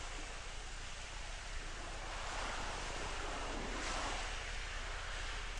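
Steady ocean waves from a mermaid-themed video game wash continuously in a loud, broadband surf roar with gentle swells, heard without any speech.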